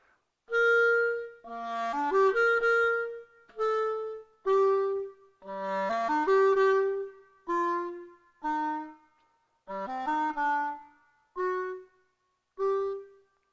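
A solo clarinet plays free, expressive phrases from Gypsy Dance with swooping runs and held notes separated by short pauses. Clear and close, no accompaniment or voices.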